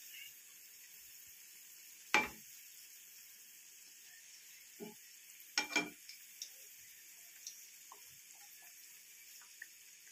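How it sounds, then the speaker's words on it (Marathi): Sweetcorn bhaji fritters fry softly in a pan, a faint, steady sizzle with a few scattered spatula scrapes and taps as the pieces are turned over. "दुसऱ्या साईडनं पण भाजून घेऊ।"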